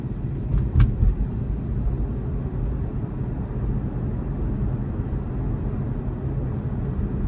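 A Tesla's air conditioning fan blows hard in fresh-air mode, a steady broadband rush filling the whole clip with a low rumble underneath and no talking.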